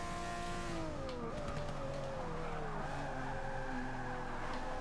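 McLaren race car in Forza Motorsport 6 driving at speed, its engine note a steady loud drone with shifting pitch, rising and dipping through gear changes, with faint tire noise underneath and no voices.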